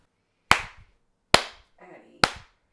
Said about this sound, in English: Make sure you do the claps.